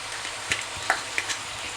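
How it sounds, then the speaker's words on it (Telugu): Tomatoes, onions, peanuts and cumin frying in oil in a pan, a steady low sizzle with a few faint stirring clinks of a spoon, quiet and close. "టమాటాలు కొద్దిగా ఉడుకుతున్నాయి. ఈలోపు ఉల్లిపాయలు కూడా వేసేసుకుందాం, ఎందుకంటే మొత్తం నూనెలో ఉడికితే బాగుంటాయి"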